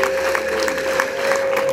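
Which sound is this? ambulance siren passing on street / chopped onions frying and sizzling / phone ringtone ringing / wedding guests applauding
wedding guests applauding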